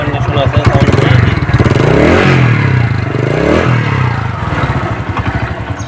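A used Runner Deluxe 80cc motorcycle in good condition running close by, its single-cylinder engine throbbing steadily and rising in two short revs before settling back to a pulsing idle.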